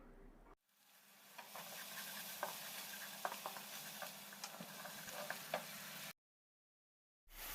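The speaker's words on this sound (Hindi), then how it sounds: "इसे मीडियम हाई फ्लेम पर 2 मिनट अच्छे से फ्राई कर लें।" Ginger, garlic and onion paste frying over a medium-high flame in a pan, making a steady close sizzle with scattered pops and stirring clicks and no talking, then cutting briefly to silence before the sizzle resumes.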